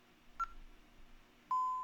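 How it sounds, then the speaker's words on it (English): Ademco Vista alarm keypad gives two key-press beeps: a short tone near the start, then a longer, steady beep after a pause, both clear and close against quiet room noise. "You hit pound 1 and then the number 2 and it beeps."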